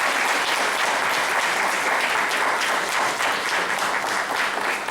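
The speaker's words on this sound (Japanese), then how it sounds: "お礼と歓迎の思いを込めてですね、もう一度盛大な拍手をお送りいただければと思います。" Steady, moderately distant audience applause at a nature-school symposium following a keynote guest's lecture, even and continuous for about five seconds without any break.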